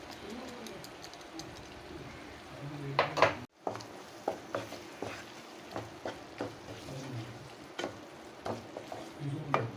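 Ground paste poured into tomatoes frying in oil for a curry, then stirred: a steady sizzle with a splashy burst, followed by rhythmic spoon scrapes against the pan, with a voice talking over it.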